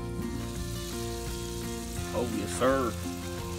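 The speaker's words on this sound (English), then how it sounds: "That junk sizzling." Asparagus sizzles and crackles steadily in a hot pan, a continuous frying hiss while someone speaks briefly over it.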